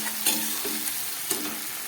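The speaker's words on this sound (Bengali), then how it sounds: "ভাজছি মশলাটা আমি।" A spice paste of onion, ginger, garlic and turmeric fries in a pan with a close, steady sizzle, broken by two or three quick stirring scrapes.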